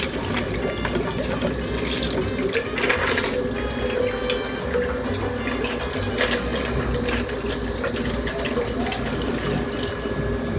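Water pours steadily into a blender with evaporated milk for a zapote shake, a continuous close splashing flow with no talk.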